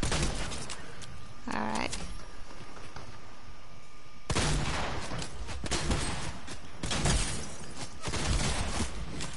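Shotgun blasts in a video game boom out in loud bursts, several heavy shots spaced a couple of seconds apart, with a brief spoken word in between.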